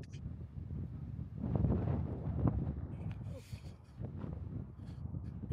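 Gusty wind buffets the microphone outdoors in a museum parking lot, a low rumbling roar that swells and fades in uneven gusts, close and moderately loud.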